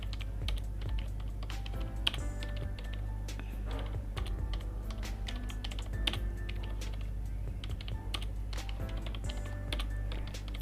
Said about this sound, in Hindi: जैसे मैं आपको टाइप करके बता रही हूँ